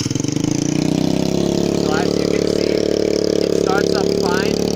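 A 2013 TaoTao 50cc scooter engine runs at a steady, loud idle right after starting, with a continuous buzzing drone and a few brief rising chirps partway through.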